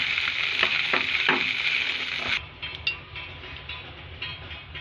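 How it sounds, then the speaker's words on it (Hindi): Phool makhana (lotus seeds) fry in two tablespoons of ghee, giving a bright sizzling hiss with a few stirring scrapes. Partway through the sizzle drops off sharply, leaving quieter clatter and faint background noise. "सबसे पहले हम इसे घी में हल्का सा फ्राई करेंगे।"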